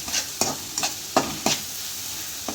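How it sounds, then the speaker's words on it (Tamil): Onions with salt and turmeric sautéing in a pan, several short scraping stir strokes over a soft steady sizzle, close and fairly quiet, with no talking. "போட்டு ரெண்டையும் சேர்த்து நல்லா வதக்கணும்."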